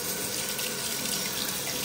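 Steady rushing water from a running tap, continuous and fairly close, with no voices.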